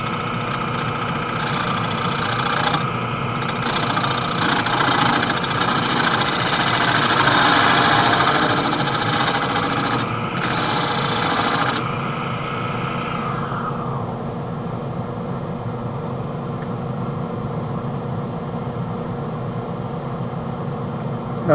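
A wood lathe turning wet cherry under a spindle detail gouge, a loud steady whine and hiss of cutting that stops abruptly partway, leaving the machine's lower running hum alone.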